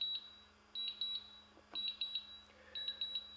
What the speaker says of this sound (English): I apologize for the controller beeping.